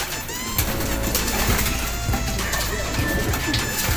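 Racing pigeons cooing and fluttering as they are let out of their loft, a dense, continuous murmur of coos close by with rustling throughout.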